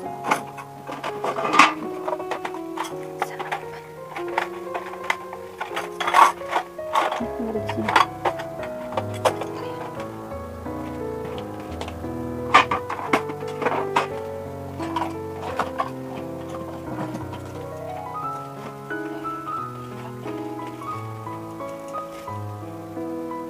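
A sewing machine stitches culottes fabric, making a close, steady ticking patter of needle strikes with occasional sharper clicks, over faint background music.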